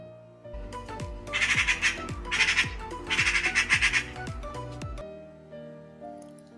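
A magpie chatters in loud, harsh rattling bursts, three rapid volleys in a row, close by, with a few sharp clicks around them.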